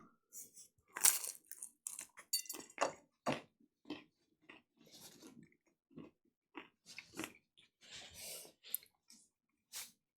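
Someone eats a Totino's Party Pizza close up, with crisp bites and repeated crunchy chewing in irregular bursts, plus soft breaths between mouthfuls.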